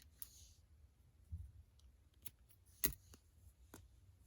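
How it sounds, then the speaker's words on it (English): Scissors snipping crochet yarn while making flower earrings, a few quiet, sparse clicks and cuts spread out against near silence, one sharper snip standing out. "I'm going to cut the yarn and just pull on it"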